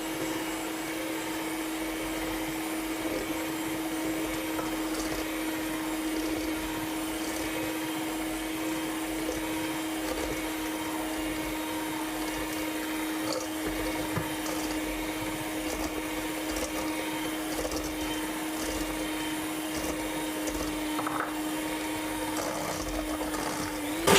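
An electric mixer beats egg foam while crystal sugar is added, the bowl set over barely steaming water for an Isteni szelet sponge. A continuous, even mechanical whir runs unbroken throughout, with no talking.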